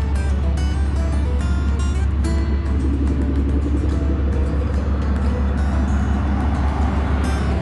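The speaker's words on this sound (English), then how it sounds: "we're just walking down the sidewalk with the cars passing" Steady traffic rumble from cars passing along a street beside a sidewalk, continuous and fairly close with engine drone and swells as vehicles go by, no talk.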